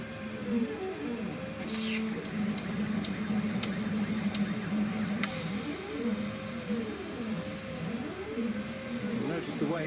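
A CNC laser cutter with air assist running steadily in a workshop, a continuous hum and hiss with wavering machine tones moving through it, while a person talks over it.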